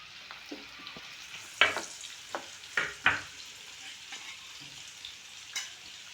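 Onion and green chilies frying in a pan with a soft steady sizzle, broken by several sharp scraping stirs of a spoon against the pan.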